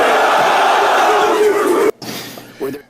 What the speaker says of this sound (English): it's amazing how they cheer in unison and stop